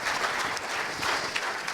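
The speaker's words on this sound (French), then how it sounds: "on peut les applaudir" Audience applause at a business awards ceremony, a dense wash of clapping from a crowd in a hall. Steady and moderately loud through the whole short stretch, with no talk over it.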